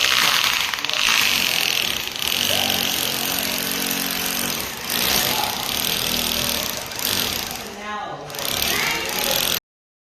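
Loud, steady mechanical whirring of a power drill drilling holes to install fans, running almost continuously, with people talking over it and brief dips in the noise.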